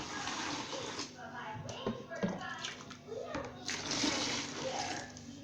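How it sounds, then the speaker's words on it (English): Hot water is poured and splashes into a bucket up close, a continuous rushing pour with small splatters, faint voices in the background. "So I will scoop and pour very hot water."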